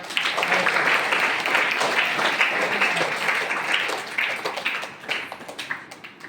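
Audience applause welcoming revered swamijis at a residential school admission event, a dense crowd clapping steadily for several seconds before it thins out and trails off.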